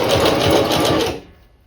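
A sewing machine stitches a wig in a fast, steady whirring run lasting about a second, then stops abruptly and leaves a short fading tail.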